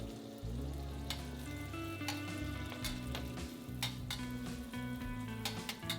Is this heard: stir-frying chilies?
yes